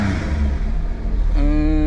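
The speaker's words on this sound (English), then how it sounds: "Nice little exhaust note." A small kei car's engine revs briefly through its exhaust, with a close, steady mid-pitched drone that rises in pitch near the end.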